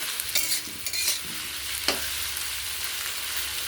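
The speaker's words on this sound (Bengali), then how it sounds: "আলু আর পেঁয়াজ ভাজা, আদা রসুন পেস্ট বেটে নিয়েছি দিয়ে দিলাম।" Potatoes and onions fry with ginger garlic paste in hot oil, a steady close sizzle with a few quick stirring scrapes near the start and no talking.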